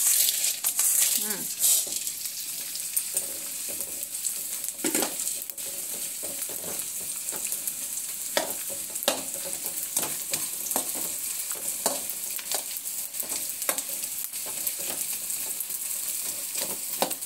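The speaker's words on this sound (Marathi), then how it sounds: "आपण हे डिंक भाजतोय लाडू करण्यासाठी" Edible gum roasting in ghee for laddoos sizzles steadily in a pan, with repeated clicking stirring scrapes throughout and a louder burst of crackle at the start; a voice is faintly present.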